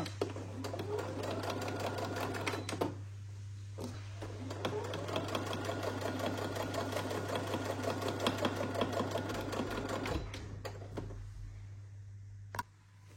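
A sewing machine stitching along the edge of a pinned fabric table runner, a fast steady mechanical whir with rapid needle clatter, close and continuous, pausing briefly twice before resuming.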